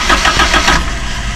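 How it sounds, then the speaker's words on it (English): Toyota Hiace 2000 with a 2.4L engine cranking on the starter after clutch and fuel filter replacement, a steady churning whir with rhythmic pulses, close and loud, without catching. "Gonna put on the starter up, start it up, see how it like, see any fuel leak out"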